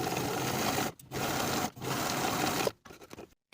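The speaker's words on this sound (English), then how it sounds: "I'm going to top stitch with a 1/4 inch seam allowance once again, top stitching right above that main seam" A sewing machine top stitches a jacket seam at a quarter-inch allowance, running in three steady close bursts broken by short pauses, then a few brief stops and starts at the end.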